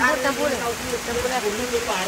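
Heavy monsoon downpour in Odisha, a dense steady hiss of rain drumming on surfaces throughout, with a voice talking over it.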